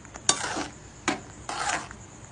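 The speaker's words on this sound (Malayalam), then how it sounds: "അതനുസരിച്ച് ഇളക്കിയും കൊടുക്കണം, അല്ലെങ്കിൽ അടുക്കി പിടിക്കും" Medicinal rice porridge (marunnu kanji) being stirred in a pot: three short scraping swirls of a spoon against the vessel, close and fairly soft, with brief pauses between and no voices.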